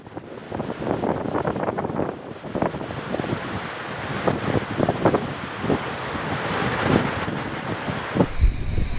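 Storm surge waves crash along the Santos seafront while strong wind buffets the microphone, a loud, continuous roar of surf and gusts that swells and falls throughout.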